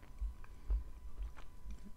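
Soft, sticky Black Ural chew being bitten and chewed up close, with a few quiet, wet mouth sounds in an uneven rhythm and no talking.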